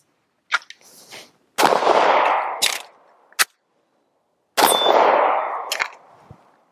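A rifle fires a few sharp, loud shots at irregular intervals, each crack followed by a ringing metallic clang and a rolling echo fading outdoors, with one louder shot near the middle standing alone.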